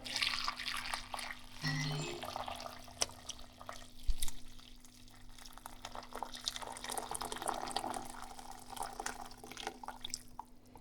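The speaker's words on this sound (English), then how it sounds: "Let's add the water." About 1.7 liters of water runs and splashes steadily into a pot for several seconds, with a faint hum underneath and a brief clank partway through.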